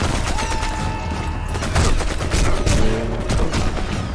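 Gunfire from the video game Sniper Elite 4, a run of sharp overlapping shots and bursts with dull booms beneath, fairly loud and continuous with no speech.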